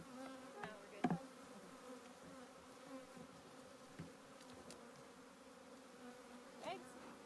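Honey bees hum faintly and continuously around an opened hive during a brood inspection, with a few soft clicks and handling knocks over the steady drone.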